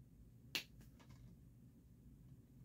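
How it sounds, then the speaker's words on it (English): A single sharp finger snap sounds close and clear against a quiet background, followed by faint short echoes. "I'll snap my fingers"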